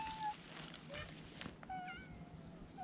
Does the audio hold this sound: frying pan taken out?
no